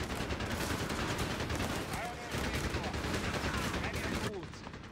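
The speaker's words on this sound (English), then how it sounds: "Installing an MG 42." MG 42 machine gun fire in a wartime video game, dense continuous bursts and distant gunfire layered over battle noise, with voices talking briefly over the din.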